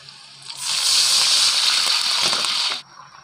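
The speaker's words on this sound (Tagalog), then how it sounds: "Lagyan natin ng unting tubig." Water poured into a hot cooking pot sets off a sudden loud hissing rush that lasts about two seconds, then cuts off abruptly to quiet.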